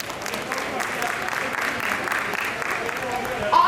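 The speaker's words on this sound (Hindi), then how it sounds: "अरे यार तालियां तो बजा दो" Audience applause at a solo dance competition show, a steady mid-level patter of many hands clapping throughout, with crowd noise mixed in.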